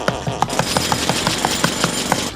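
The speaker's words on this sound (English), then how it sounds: "use the handle of this little hammer to mash the bits into a paste" A small hammer handle pounds and mashes wet chalk bits into paste, giving quick, evenly repeated knocks and grinding scrapes close up, with no talk.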